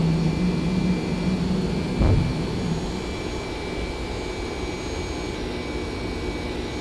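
Airliner jet engines roaring at takeoff in the X-Plane flight simulator game, a loud, steady rumble with a whine on top and a brief thump about two seconds in.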